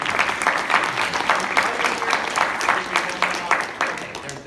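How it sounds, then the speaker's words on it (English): Audience members at a machine-learning competition session clap in a moderate, slightly uneven burst that carries steadily for a few seconds, without speech over it. "So could we give a round of applause to..."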